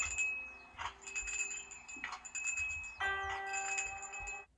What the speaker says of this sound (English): This dude's got wind chimes on his head.